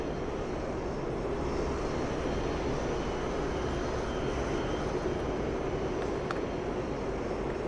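Aircraft engine in a flight video game, flying a Mirage jet throttled back: a constant dense low roar holding at one level without a break for the whole stretch, with no voices.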